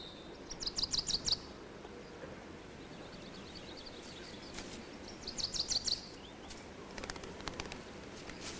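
Small birds chirp in quick bursts of high, thin tweets, near and fairly clear over a soft outdoor background hiss, with gaps between the flurries and no voices.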